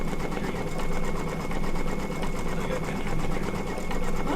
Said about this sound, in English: he's just stitching away on the hearts